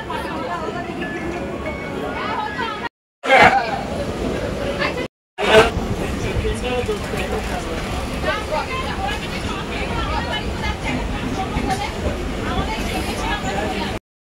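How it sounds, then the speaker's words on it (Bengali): Maa Tara Express pulling out of Sealdah station: a steady, loud rolling rumble with a crowd chattering over it, broken by two brief silent gaps. "শিয়ালদা থেকে মা তারা এক্সপ্রেস ছেড়ে দিল একদম রাইট টাইমে"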